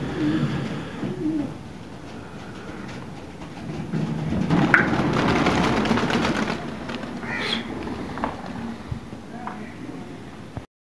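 Soft, low pigeon coos repeat under outdoor chatter, with a few higher bird calls and rustling in the background.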